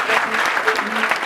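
A church congregation claps in a brief, dense burst of applause, with voices mixed into it.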